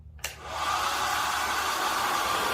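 A hair dryer switches on after a brief click and blows air with a steady, loud rushing hiss and hum that runs unchanged until it cuts off. No one talks.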